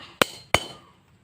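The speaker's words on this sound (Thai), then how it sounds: "เหล็กสกัดมาตอกตรงนี้" Two sharp metallic strikes of a hammer on a cold chisel set against a damaged car wheel nut, close and loud with a brief ringing decay, about a third of a second apart.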